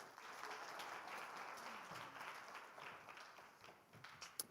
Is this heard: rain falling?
no